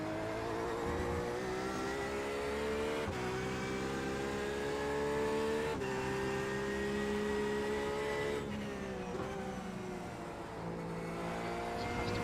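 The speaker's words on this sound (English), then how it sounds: "There's a faster car approaching." A race car's engine drones steadily at high revs during a 24-hour Le Mans event in iRacing, with brief dips in pitch at gear changes and no talk over it.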